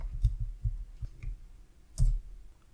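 Soft, close keystrokes tap out a command on a computer keyboard, a quick cluster of light clicks followed by a slightly heavier press, quiet and without talk.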